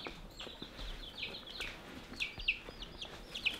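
Young chicks cheep and cluck in quick, high bursts, close by and fairly soft, over a low outdoor background with no talking.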